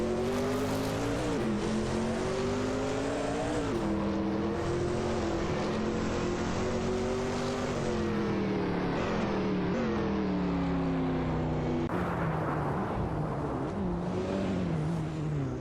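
Engines howl and rise and fall in pitch in an AI racing video game as a Mercury Cougar XR7 and other cars fight for position, loud and continuous with several overlapping motors.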